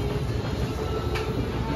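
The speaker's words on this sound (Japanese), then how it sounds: "電車通ってる" A passing train rumbles steadily in the background, a low continuous roar with a faint rhythmic clatter, fairly near.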